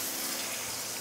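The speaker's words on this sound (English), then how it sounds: "Cold water." Cold water gushes steadily from a kitchen tap into a colander in the sink, a close, even hissing splash that runs unbroken throughout.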